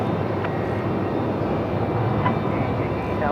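An Airbus A350 airliner arriving from Beijing rumbles on approach to Melbourne Airport, a steady broadband engine roar that holds at constant loudness throughout without any break.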